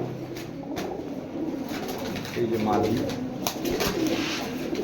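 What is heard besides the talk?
pigeons cooing, Gorra silver racer and Mushaldom pigeons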